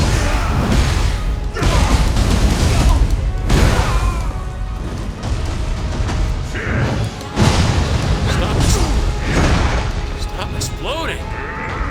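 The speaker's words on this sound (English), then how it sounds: "Exploding." Explosions in the video game Nioh 3 burst repeatedly in loud, close booms and crashes, with bangs and clattering combat noise between them and game voices mixed in.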